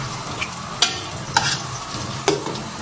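White and black raisins fry in hot oil while being stirred, a steady sizzle under several scraping stirs and light clacks of a utensil against the pan.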